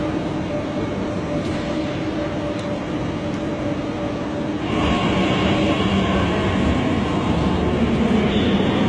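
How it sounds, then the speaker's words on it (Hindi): Onboard rumble of a German train running along the rails, a steady broadband roar that grows louder and brighter midway through, with no talking. "हमारी जो ट्रेन है ये जर्मन ट्रेन है"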